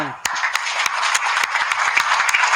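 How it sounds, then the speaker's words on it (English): A crowd applauds steadily, many hands clapping together in a dense, sustained patter with a few sharper claps standing out. "give these folks, these two gentlemen, a very strong applause"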